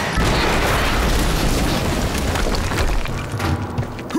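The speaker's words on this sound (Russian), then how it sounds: "Около зоны добычи произошел взрыв." A heavy explosion from the video game Quantum Break: a dense, loud roar of rumbling blast noise that fills the whole clip without letting up and carries no speech.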